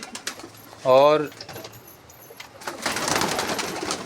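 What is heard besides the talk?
pigeons cooing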